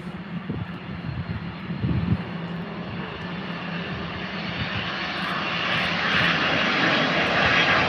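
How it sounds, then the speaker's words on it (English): A United Airlines Boeing 767 jet lands at London Heathrow, its engine roar building from a low rumble to a loud, broad whine that swells steadily as it approaches. "United Airlines 767 coming in hot"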